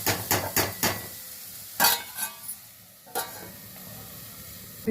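Carrots sautéing in a pan for carrot rice give a continuous sizzle, broken by a quick run of spoon scrapes and taps at the start, a louder clatter around two seconds, then quieter frying with another stir later.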